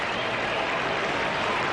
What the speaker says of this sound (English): Now the crowd come alive again.